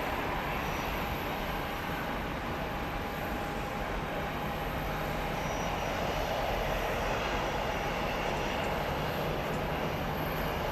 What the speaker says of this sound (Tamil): இப்போ ஒரு ஃப்ளைட் வந்து லேண்ட் ஆகிருக்கு பாருங்கள்